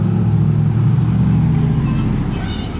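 A pair of Ferraris with aftermarket exhausts give off a loud, close, deep steady rumble that eases slightly as it fades away.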